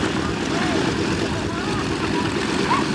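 A propeller aircraft, once a Navy plane, flies at the Sussex County Airshow, giving a steady, loud engine drone with no break, while faint voices sit under the noise.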